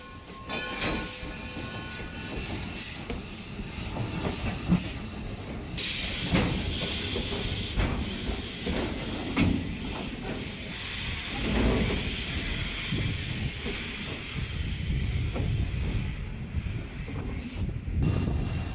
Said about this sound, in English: While the train waits for its passengers to get on board